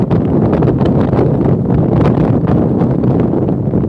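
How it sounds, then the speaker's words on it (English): Strong gusting wind at Las Vegas International Airport, around 40 miles an hour, buffeting the microphone in a loud, continuous roar that swells and rustles steadily throughout, with no talking. "Winds gusting again. Probably 40 miles an hour out here at Las Vegas International Airport."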